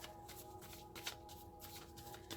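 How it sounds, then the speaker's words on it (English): A deck of cards being shuffled during a tarot reading, a steady riffle of rapid papery flutters and soft slaps continuing throughout, close and fairly quiet with no talk. "So, I like to give it a good shuffle."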